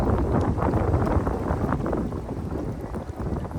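Strong wind buffets the microphone in heavy, uneven gusts at a lakeside fishing spot, a close rumbling roar that fills the whole moment without any talking.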